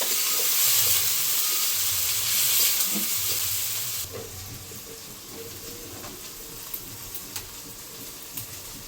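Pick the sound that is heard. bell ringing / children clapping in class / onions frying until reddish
onions frying until reddish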